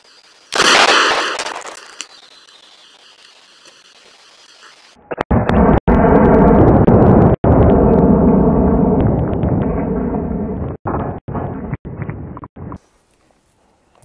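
An AK rifle is fired into a brick wall outdoors, giving one loud, sharp report that decays over a second or two. A long stretch of steady loud noise follows, broken by brief cuts.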